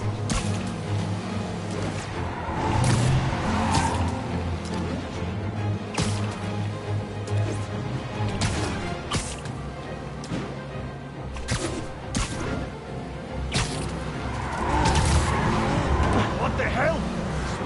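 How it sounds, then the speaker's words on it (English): Car skidding and tires squealing during a chase in the Spider-Man PS4 video game, with engine roar and crash impacts throughout, mixed with game score and brief voices. "Now I just have to stop that car."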